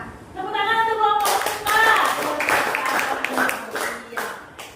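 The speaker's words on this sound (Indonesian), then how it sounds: "Tepuk tangan untuk kelompok" A small group claps in a short, scattered burst of applause that follows a voice, with the clapping fading out near the end.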